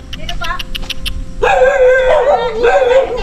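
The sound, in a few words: dogs barking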